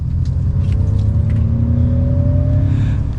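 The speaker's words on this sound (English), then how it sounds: "you can even turn on the propulsion sound, which basically gives you an exhaust note in a sense" Ford F-150 Lightning electric pickup in sport mode playing its artificial propulsion sound, a loud low synthetic exhaust-like drone rising steadily in pitch as the truck accelerates.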